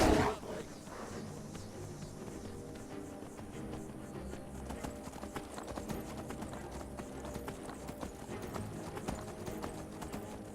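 Horse hooves in Skyrim clip-clopping in a steady galloping rhythm while riding, fairly faint under background game music, with a brief louder burst at the very start.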